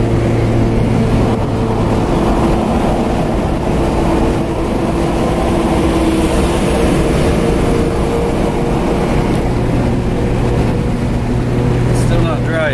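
Interior drone of a Honda Civic EJ1 with a K20 engine being driven, a steady, loud engine and road rumble holding throughout with no clear revving changes.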